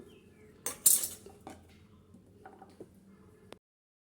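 A knife working through raw green mangoes, cutting them into long strips for a mango dal, giving a few clinking taps and scrapes on a plate or board, close and fairly quiet against a low background hum.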